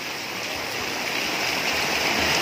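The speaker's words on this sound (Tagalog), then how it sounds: "sobrang lakas talaga ng ulan" Heavy rain pours down during a trip home, a loud, even, unbroken hiss of water hammering surfaces that swells slightly toward the end.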